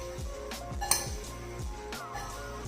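Green chilli pickle spices being stirred in a metal pot, with repeated clinking and scraping of a spoon against the pot in a steady rhythm, close and moderately loud, with no talking.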